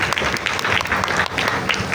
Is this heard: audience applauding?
yes